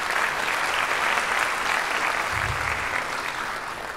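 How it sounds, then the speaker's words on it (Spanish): Sustained applause from an audience at a formal speech event in Santo Domingo, a dense wash of clapping that holds steady for four seconds and tapers slightly at the end. "para quien pedimos un fuerte aplauso también"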